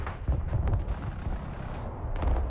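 Artillery fire in the real-time strategy war game Broken Arrow, a run of deep, rumbling booms and muffled blasts rolling together close and loud over about two seconds, with no talking.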